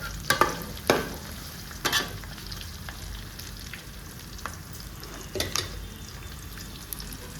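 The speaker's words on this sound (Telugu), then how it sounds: "మనకి ఉల్లిపాయలు వేగిన నాయిస్ అయితే వస్తుంది." Onions frying in a pan for Nellore-style fish pulusu, a low continuous sizzle broken by several sharp scrapes and knocks of a spatula as they are stirred.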